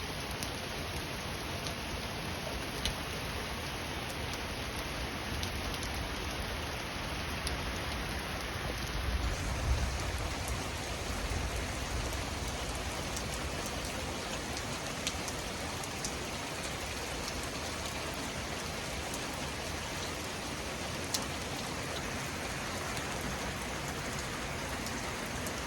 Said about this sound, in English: The rain is relentless, my goodness.